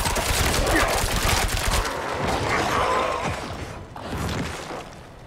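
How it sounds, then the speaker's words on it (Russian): Corpses exploding during co-op play of the PC video game Diablo IV, a dense burst of crackling, popping blasts and mechanical clatter that fades toward the end, with a voice speaking faintly under it. "Это трупы взрываются."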